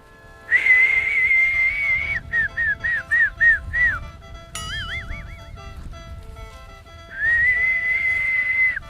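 A person whistles a clear, sustained tune, then a run of short rhythmic notes and a wavering warble, returning to a long steady tone, close and loud with no talking.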